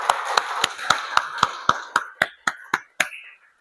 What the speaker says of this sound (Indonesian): Kita tepuk tangan dulu yuk untuk Mbak Lia.